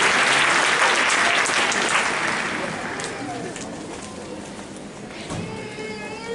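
Audience applause at a university multicultural graduation ceremony, a loud burst of clapping that gradually fades over several seconds, with scattered cheers and voices in the crowd.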